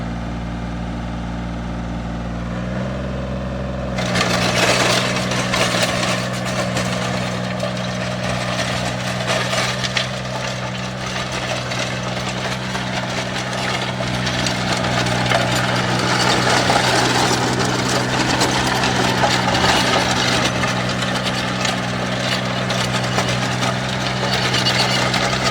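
Powertrac mini tractor engine after an oil service and ignition repair, starting a few seconds in and settling into a steady, loud mechanical idle with a rattly, busy chug that carries on without pause.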